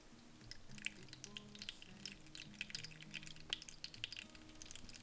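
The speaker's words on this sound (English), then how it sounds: "I switch on my little water fountain, The gentle sound of flowing water has such a calming effect on me." A small tabletop water fountain trickles and drips softly and steadily, very quiet and close, with no voices.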